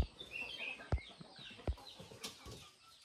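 Chickens on a farm clucking with a few sharp, soft calls and wing rustles, faint and somewhat distant against quiet background noise.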